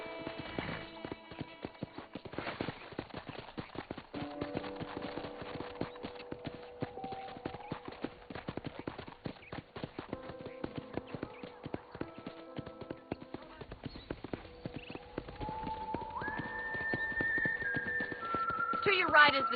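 Steady clip-clop of horse hooves at an easy walking pace in the video game Red Dead Redemption, with a faint whistle-like tone and other game sounds layered on top.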